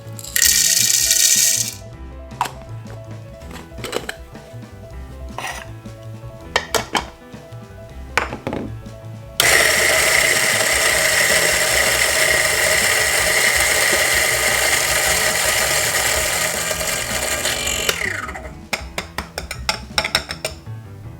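An electric coffee grinder for camping coffee runs with a loud, steady whirring drone for several seconds after some clattering handling of the equipment, then winds down and stops.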